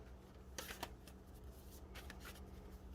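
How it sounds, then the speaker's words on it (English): Soft, quick riffling of a tarot deck being shuffled, a few crisp bursts over a faint background hum. "I'm going to shuffle your deck here"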